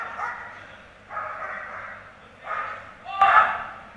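A police dog guarding a bag barks in four short, loud bursts spaced about a second apart, close by, with voices audible around it.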